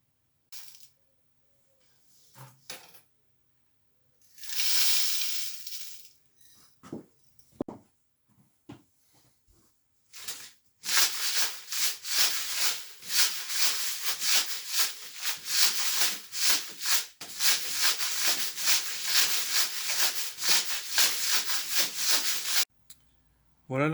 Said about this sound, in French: quand on va faire tourner ce cylindre, le frottement de tous ces cailloux et du sable sur la lame va la patiner